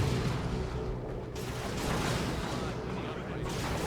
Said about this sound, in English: Incendiary shells on the way.